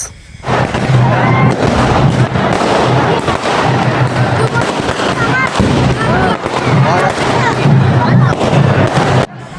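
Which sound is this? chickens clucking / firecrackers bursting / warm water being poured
firecrackers bursting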